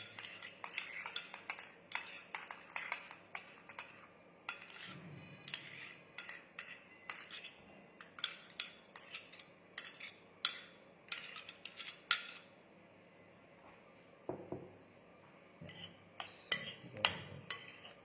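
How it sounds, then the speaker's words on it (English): Ingredients are mixed in a bowl with a utensil, making a steady run of light clinks and scrapes that pause briefly and then resume, fairly quiet and close. "Just give it a good mix."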